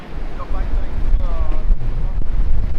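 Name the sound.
wind blowing outdoors at the Reading Pagoda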